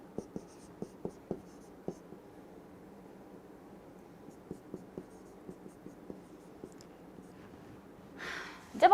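Pen or marker strokes tap and scratch on a board during a math lesson, a quick run of sharp ticks, a pause, then another series, faint and close, ending with a short breathy noise.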